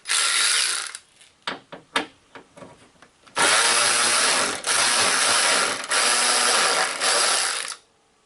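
A Snap-on 1/4 inch drive hand ratchet clicks in a few short bursts, then runs in long, loud, continuous buzzing stretches, close up, with no talk.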